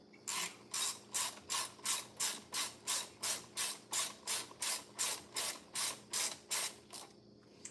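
Rapid ratchet wrench clicks tightening an engine bolt during a head gasket replacement, heard as about fifteen evenly spaced bursts, close and fairly quiet, stopping just before the end.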